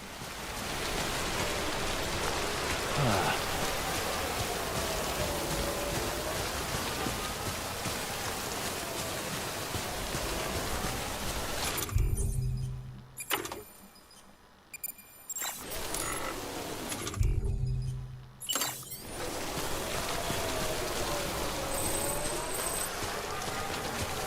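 Steady rain pours down in the Death Stranding video game, a dense hiss that drops out into near silence twice partway through before the downpour resumes.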